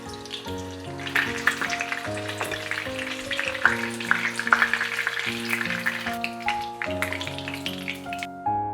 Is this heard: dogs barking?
no